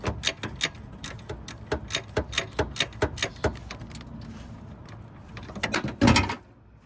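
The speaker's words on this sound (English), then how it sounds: "we can lose the alternator to put some play in this belt. So once I loosen it, I'll show you guys." A ratchet works on the alternator of a 2001 Toyota Highlander, a close run of sharp rhythmic clicks in quick succession, pausing briefly before a final burst of clicking and a louder clunk.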